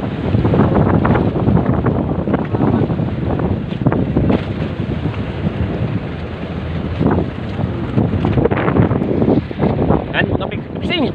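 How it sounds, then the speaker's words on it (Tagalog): Strong wind roars across the microphone on a boat at sea about 20 miles out in Philippine waters, with rough, high waves sloshing and crashing in a loud, continuous wash throughout. "Medyo nagmataas-taas yung mga alon."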